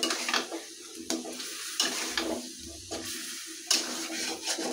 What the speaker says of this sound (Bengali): পাঁচফোড়ন গুঁড়োটা দিয়ে আমি নেড়ে চেড়ে